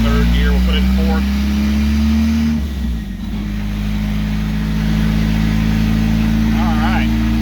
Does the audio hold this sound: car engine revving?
yes